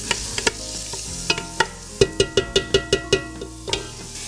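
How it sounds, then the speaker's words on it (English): Chopped pepper sautés in a pan for a vegetable lasagna, with a low background sizzle broken by a run of sharp, evenly spaced metallic taps and scrapes of a utensil against the pan, close and fairly loud. "Now we're going to add the pepper, the chopped pepper. We're going to saute that a little bit."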